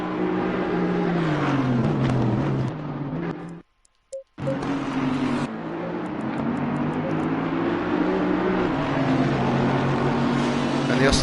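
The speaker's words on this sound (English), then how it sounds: "The Aston Martin with a 4-litre V8 twin-turbo, bespoke Borg Warner turbos with integrated elastic wastegates" An Aston Martin race car with a 4-litre twin-turbo V8 drones past at Mount Panorama during a 12-hour race, engine tone rising and falling steadily, with a brief dropout before the sound resumes.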